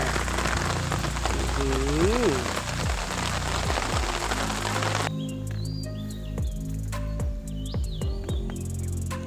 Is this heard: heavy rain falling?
yes